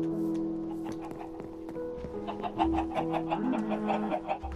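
Chicken clucking in Minecraft on PlayStation 4, a few short game-sound clucks over busy background game noise and music-like tones, with no talk over it.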